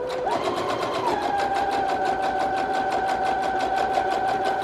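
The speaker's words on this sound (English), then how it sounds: "I'm gonna sew around the edges." An electric sewing machine stitches around the edges of a handmade journal, a fast, even mechanical whir with a steady rapid needle rhythm running close and unbroken, with no talking.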